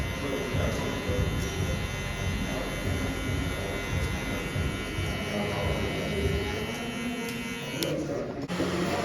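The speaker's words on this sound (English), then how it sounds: "Start twisting your clipper, use more of your corners." Electric hair clipper cutting a burst fade on a tattooed head in a barber school, a constant close buzz with someone talking over it.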